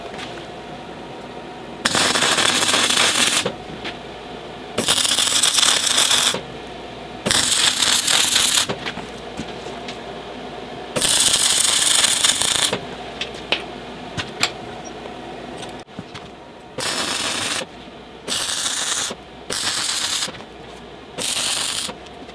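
Small stainless steel pieces being welded onto a tube for a John Deere DervBus build, heard as several close, harsh crackling buzzes lasting a few seconds each, followed by shorter bursts with quiet gaps.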